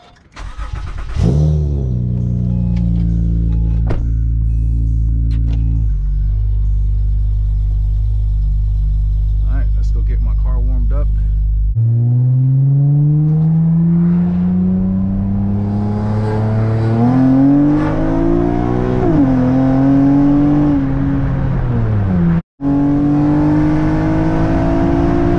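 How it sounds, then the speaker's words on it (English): An Acura TL with pre-cat deletes and a J-pipe cold-starts with a loud crank, then settles into a deep, raspy high idle that rises and wavers in pitch, close and dominant, with a brief cut near the end. "Cold start with the pre-cat deletes"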